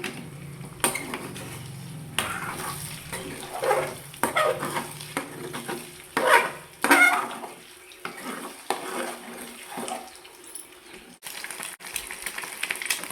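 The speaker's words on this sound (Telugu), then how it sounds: "ఇప్పుడు ఒకసారి గంటతో తిప్పుకోవాలి." A ladle stirs eggs and green chillies in a pan, giving irregular metallic clinks and scrapes with soft wet sloshing, close and fairly clear, pausing briefly between strokes.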